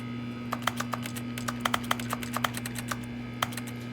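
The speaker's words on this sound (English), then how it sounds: "I'm like typing on the keyboard." Rapid keyboard typing from The Stanley Parable: a close, irregular run of sharp key clicks over a steady electrical hum, with no talking.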